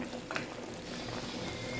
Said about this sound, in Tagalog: Kumukulo-kulo na. Malapit na itong maluto.